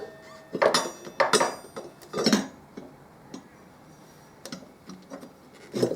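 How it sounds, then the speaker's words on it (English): Metal brake caliper being worked onto the loose front disc of a Harley-Davidson Deuce, giving a series of close, irregular scraping and clinking taps with short pauses between them and no talk. "I'll try again to feed this caliper in."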